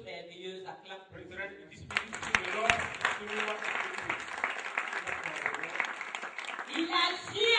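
A church congregation breaks into loud, sustained applause and cheering during a worship service, building after a short spoken opening and continuing steadily with voices mixed in.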